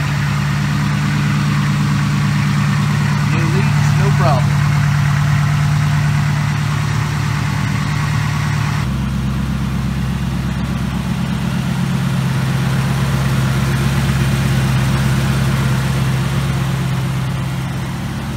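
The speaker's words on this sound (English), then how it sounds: "First start up with the intake modified." A Saleen car engine, just back together after an intake manifold repair, runs at a loud steady idle close by, with a brief rise in engine note midway before settling again.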